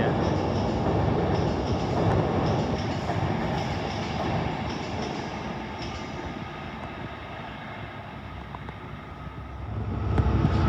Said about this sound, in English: Now the freight train is making a move.